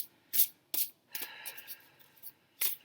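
A few quiet, brisk papery riffles and slides, like cards being shuffled, come in short separate bursts with pauses between.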